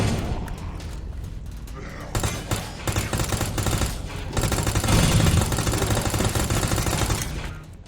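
Rapid submachine gun bursts ring out in the video game Resident Evil 2 Remake, dense and loud, layered over game music and effects for several seconds before tapering off.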